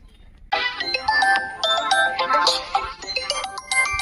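A mobile phone rings with an incoming call from a mother, its melodic ringtone starting abruptly after a short quiet moment and repeating in bright, chiming note patterns at close range.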